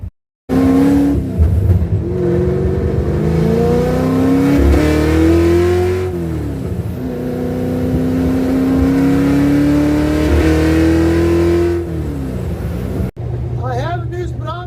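A car engine drones loudly and continuously, its pitch rising and falling as it revs through gears, with a brief cut near the end.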